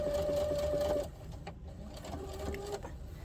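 A sewing machine runs close and quietly while stitching a seam on a harvest apron, a steady whirring burst of about a second, then soft handling sounds and another brief run of stitching.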